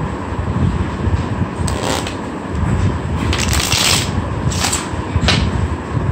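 Playing cards being shuffled close up for a magic trick, several quick riffling bursts over a constant noisy background.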